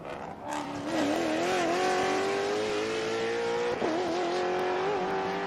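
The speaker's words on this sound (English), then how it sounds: "Those Maseratis sound really great." Maserati race cars roar loudly during Trans Am Series qualifying at Sebring, a high steady whine rising and shifting pitch as the cars accelerate past.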